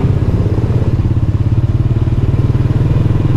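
A motorcycle rides on a dirt road on an island in Si Phan Don, Laos. Its steady, close engine putters with a rhythmic low throb and rattles, and there is no talk.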